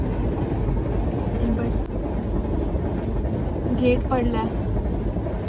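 A train rumbles past nearby at a railway crossing with a loud, continuous low roar and clatter, while people talk over it.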